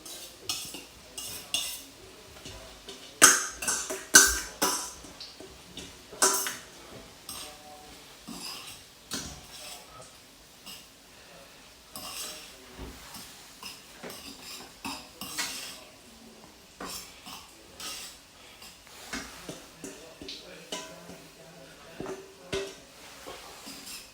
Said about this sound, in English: so now I'm gonna put the salt fish